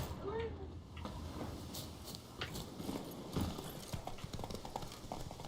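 Horse hooves clip-clop steadily in The Witcher 3, a rhythmic trotting gait heard close and clear over soft game ambience, with a brief whinny-like cue early on.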